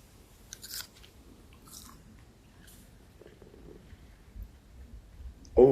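Someone bites into and chews a hot pepper up close, with a few soft crunches and wet mouth sounds over faint background, followed by a sudden louder thump at the end.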